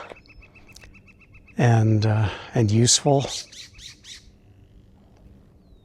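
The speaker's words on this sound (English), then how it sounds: "Man, these birds are loud." Loud birds squawk outdoors during a walk, a few harsh close calls in quick bursts, with a voice talking faintly before them.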